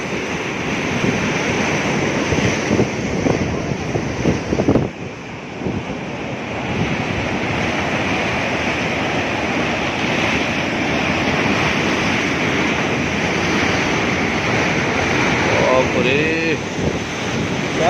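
Fast, heavy water rushes and roars at Gokak Dubdaal waterfall, a loud unbroken wash with wind buffeting the microphone, briefly dipping once before surging on; a voice speaks faintly under the roar.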